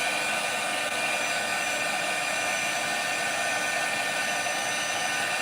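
Heat embossing tool blowing hot air over a Valentine's Day card, a steady, continuous whooshing hum with no change in level, close and alone without talk.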